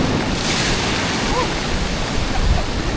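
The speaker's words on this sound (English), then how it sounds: "Well, so will the next few waves." Ocean surf rolls and breaks at sea near a small boat, a steady loud wash of water mixed with heavy wind buffeting the microphone throughout.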